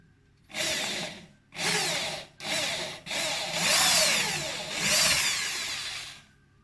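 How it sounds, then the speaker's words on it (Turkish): A power drill whirs in several short bursts, pausing between each, boring a small hole into a laminate or parquet floor up close with a gritty, rising whine. "tam oraya matkapla küçük bir delik açıyoruz"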